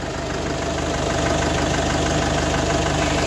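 A Great Wall Wingle 7 pickup's small 2700cc engine idles close by, a steady low rumble with an even mechanical patter and no change in pitch throughout.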